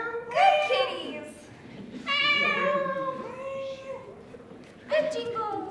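Several loud, close meows from house cats: three separate drawn-out, wavering calls with pauses between them, indoors and otherwise quiet.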